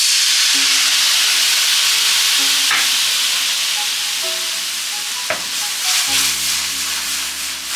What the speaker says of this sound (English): take that 1 cup of red wine and deglaze the pan